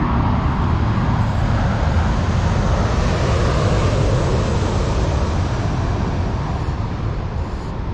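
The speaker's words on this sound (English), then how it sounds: "What, the aeroplanes again?" A steady, loud broadband roar fills the whole clip as an airplane passes overhead above the River Almond, with no talking.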